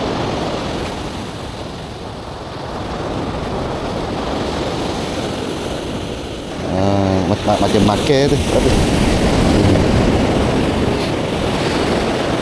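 Big waves surge and break on a sandy beach where someone is surfcasting, a continuous loud wash of surf with wind noise, while someone speaks briefly partway through.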